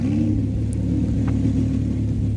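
Hurricane Evo car in the Roblox game idling after starting up, a steady low engine rumble with a faint rev, close and continuous with no talk.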